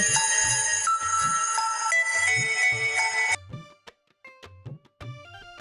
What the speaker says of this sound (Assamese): কাৰ বা ফোন আহিছে